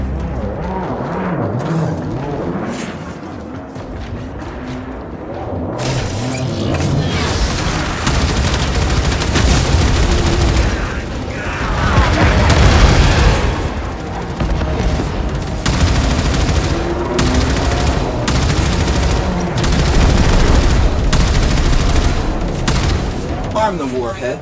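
Ship weapons firing a full salvo of warheads from a Railjack in the game Warframe, with booming blasts and rapid bursts rolling through a long stretch of battle noise, voices speaking over parts of it.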